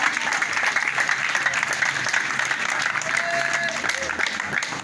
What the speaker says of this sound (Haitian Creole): Applaudis mon Dieu fidèle ça matin qui a vu nous.